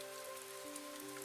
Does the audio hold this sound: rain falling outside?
yes